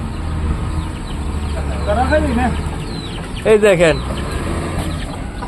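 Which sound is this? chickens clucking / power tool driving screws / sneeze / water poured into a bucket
chickens clucking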